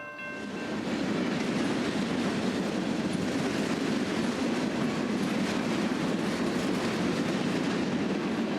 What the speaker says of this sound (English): there is a train coming, so people watch out